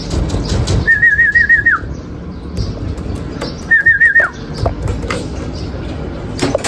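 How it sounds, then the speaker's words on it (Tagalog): Two warbling whistles from arriving racing pigeons, each about a second long, rise above a steady outdoor background, with faint bird chirps and fluttering between them. "Bali, 6 na ibon natin mga kalapatids"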